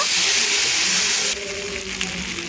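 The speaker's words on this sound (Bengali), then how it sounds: "এখানে দিয়ে দেবো ভেজে রাখা আলু এবং মাথাটা তো এটা দিয়ে মশলাটার সাথে ভালো করে আমি নাড়াচাড়া করে নেব" Fried potatoes and a catla fish head are stirred in spice masala in a hot pan, giving a loud, steady sizzling hiss that softens partway through as the stirring continues.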